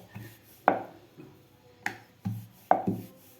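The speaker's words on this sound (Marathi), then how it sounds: "आता आपल्याला लगेचच कडकनी लाटून घ्यायची आहे" Kadakani dough, a semolina and flour mix, pressed under a rolling pin on a board, giving a handful of soft, irregular knocks and thuds close by with quiet gaps between.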